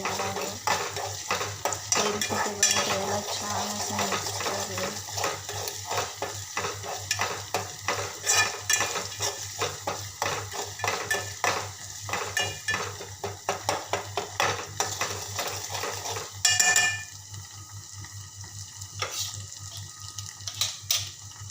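Spices and garlic paste sautéing in oil for masala bitter gourd, stirred steadily with a utensil scraping the pan and a low sizzle underneath, close and continuous, quieting near the end.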